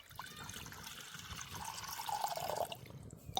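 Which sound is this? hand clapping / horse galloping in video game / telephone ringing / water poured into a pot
water poured into a pot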